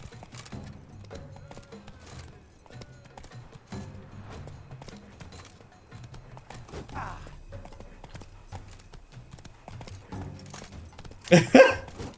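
Hooves of Roach, a horse in The Witcher 3, clip-clop in a steady rhythm across most of the stretch, moderately close, ending in a louder burst of movement, with faint game ambience underneath.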